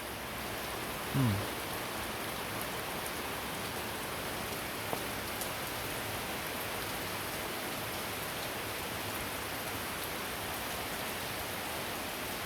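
Steady rain falls under a white, overcast morning sky, a dense even patter on surfaces that continues unbroken and alone, with one brief faint chirp early on.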